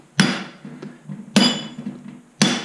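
A hammer delivers three sharp, separate taps to the arms of a final drive being taken apart, each strike ringing briefly with a metallic clink before dying away, spaced about a second apart, close and fairly loud.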